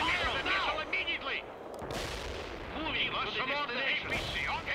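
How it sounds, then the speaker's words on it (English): Missile launch and explosions in the World in Conflict video game: booming blasts and artillery-like gunfire with dense crackling, while radio-style voices speak over the battle. "Launch the missile now."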